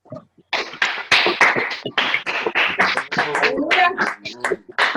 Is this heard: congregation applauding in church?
yes